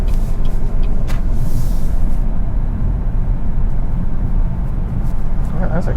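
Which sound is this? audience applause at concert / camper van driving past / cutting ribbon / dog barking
camper van driving past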